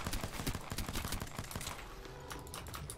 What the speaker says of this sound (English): I'm shooting somebody.